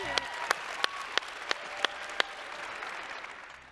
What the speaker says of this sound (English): Give Hillary a big round of applause, would you?